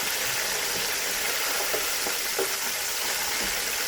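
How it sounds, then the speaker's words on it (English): Chicken fried steak frying in a frying pan, giving a continuous broadband sizzle with a few faint knocks as the pan is shaken and the meat is moved around. "Shake it a little bit, move it around in the frying pan, just make sure it's not sticking"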